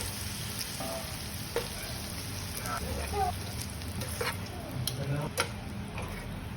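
Pork sizzles in a pan as it browns for a Coke-braised adobo, a dense continuous frying crackle with scattered pops and light utensil ticks, close and even throughout.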